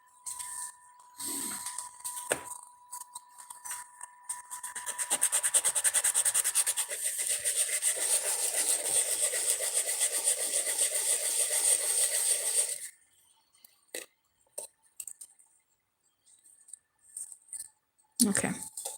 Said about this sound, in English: I'm gonna sand it. Some of the edges have bits of like resin debris.